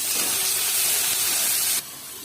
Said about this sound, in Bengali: পেঁয়াজটা ভালো হয়ে গেলে আমি টমেটো দিলাম